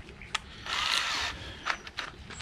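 A short burst of an electric drill whirring for about half a second while removing a 3/4-inch nut, framed by clicks and clatter of handling the tool nearby.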